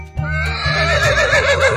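A horse neighs in a loud, wavering whinny that rises and trembles for nearly two seconds, close and clear over a low steady drone.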